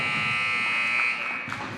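End-of-quarter buzzer at a high school boys varsity basketball game, a loud sustained electronic tone filling the gym for nearly two seconds and dying away near the end.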